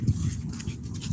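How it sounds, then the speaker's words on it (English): A big, heavy dog panting outdoors: quick, steady breathy huffs close to the listener for about a second, fairly quiet, with no talking. "See my dog Buddah?"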